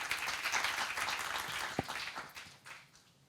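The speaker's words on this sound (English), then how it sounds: "Please, another round of applause to Mateja, Lazar." Applause from a forum audience at a mobility and creativity event, a dense spread of many hands clapping that fades out toward the end with a single sharper knock in the middle.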